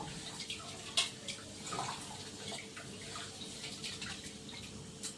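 Water sloshes and trickles in a bowl as rice is rinsed, with soft splashes and a few sharper clinks, a steady close-up rinsing sound with no talking.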